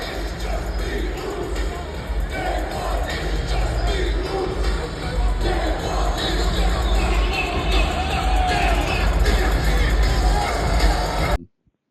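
A packed stadium crowd roaring and cheering through a wrestler's entrance at Survivor Series, a dense, sustained wash of noise that swells slightly before cutting off abruptly.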